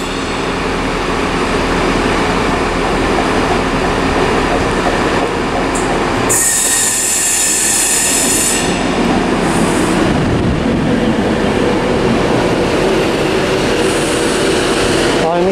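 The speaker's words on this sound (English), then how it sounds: "Avanti West Coast service to London Euston from Glasgow Central, Edinburgh even, and this is the Pendolino I've been looking out for" Avanti West Coast Pendolino in Pride livery at Carlisle station on the West Coast Main Line, a loud close rumble with a sharp high squeal of wheels midway, steady rail noise throughout and no speech.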